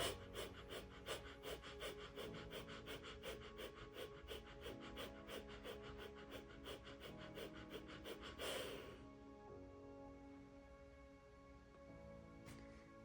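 Rapid, deep rhythmic breathing during a guided breathwork exercise, quick regular pulses of breath repeating for about eight seconds before settling into a quieter, slower stretch.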